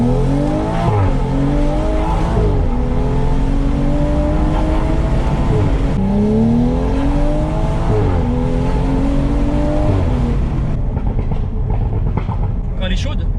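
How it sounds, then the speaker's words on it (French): Launch-control start in a tuned BMW M135i: the engine howls loudly and rises through several gear changes, with short dips between shifts. Tires squeal as it accelerates, and the sound then thins out as the car pulls away. "On va tester le launch control"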